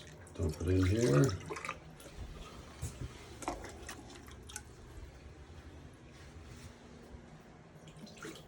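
Water dumped out of a container while winterizing a camp, a brief loud gush and splash, then scattered drips and small knocks that fade into quiet room noise.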